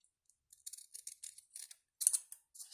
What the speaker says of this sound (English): I'm going to cut that end off